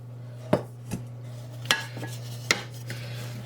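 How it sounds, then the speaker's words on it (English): A utensil stirs cubed turnips, carrots and potatoes in a pot, giving a few distinct clinks and scrapes against the metal at irregular intervals over a steady low background hum. "Give it a good stir around."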